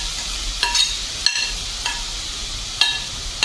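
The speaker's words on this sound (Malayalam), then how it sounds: "നമ്മൾ ഗ്രേറ്റ് ചെയ്ത് വെച്ചിരിക്കുന്ന ബീട്രൂട്ട് പൂർണ്ണമായി തന്നെ നമ്മൾ അതിലേക്ക് ചേർത്ത് കൊടുക്കുന്നുണ്ട്" Grated beetroot frying in coconut oil, with a steady sizzle under several sharp scrapes and clacks of a stirring utensil against the pan, no voices.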